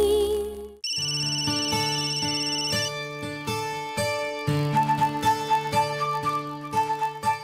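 A landline telephone rings with a loud, melodic electronic ringtone, repeating a bright tune of rhythmic tones with no voices.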